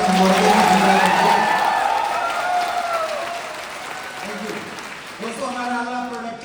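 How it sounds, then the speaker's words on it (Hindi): An audience claps in a dense wash of applause at a product-plan presentation, loud at first and slowly fading over several seconds while someone talks over it. "जोरदार तालियां होनी चाहिए रिजल्ट के लिए"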